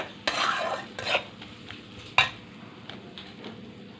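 Garlic paste, ginger and chili paste sauté for a siding fish curry, giving a low steady sizzle in the pan punctuated by a few sharp clacks of the spatula against the metal as the spices are stirred.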